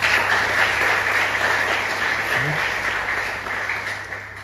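An audience claps steadily and loudly for a student at a dialogue event with university students at FISIP UI in Depok, the dense applause fading slightly toward the end.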